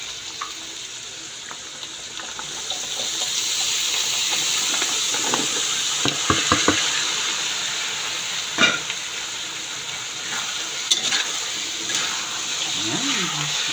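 Potatoes go into a pan of sizzling pork giniling, giving a steady frying hiss with a few stirring clatters and brief scrapes throughout.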